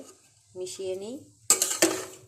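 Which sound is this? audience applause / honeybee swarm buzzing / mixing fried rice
mixing fried rice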